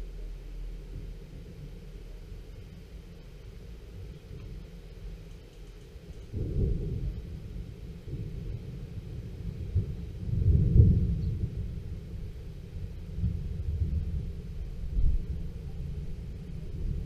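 Thunder from a dusk thunderstorm rolls in as deep, distant rumbles over a low steady background, swelling twice into heavier booms before fading back to a murmur.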